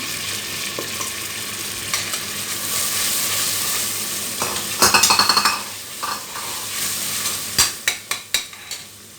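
Bulgur tipped into a hot pan of herbs sizzles steadily and close, with several sharp clinks of a spoon against the pan as it is stirred near the end; no one speaks.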